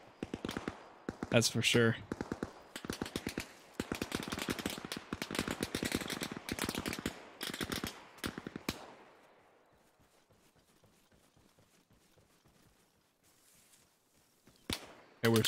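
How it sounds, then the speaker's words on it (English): Fireworks and gunfire in the military shooter game Arma Reforger crack in dense rapid bursts, then fade to scattered distant pops before a last close burst, with a brief spoken remark. "There's a lot of fireworks going off, though."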